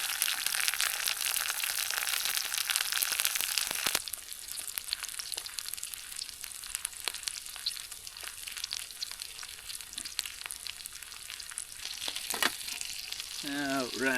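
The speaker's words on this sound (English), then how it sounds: "Warm some onion up." Onion frying in a pan at a campsite, a continuous hissing sizzle that is loud at first, then drops to softer crackling with scattered pops and stirring scrapes.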